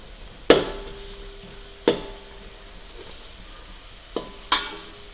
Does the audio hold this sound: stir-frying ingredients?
yes